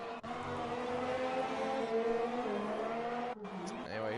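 Ferrari race cars roar through a racing video game, a steady layered engine drone that holds for several seconds, briefly cuts out, then returns over a rising engine note.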